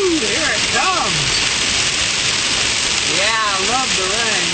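Heavy cloudburst rain roars steadily and loudly, with a voice talking over the downpour at several points.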